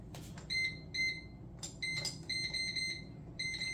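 An air fryer being set to 7 minutes at 375 gives a series of short, high electronic beeps at uneven spacing, close but faint over low background noise, with a few clicks.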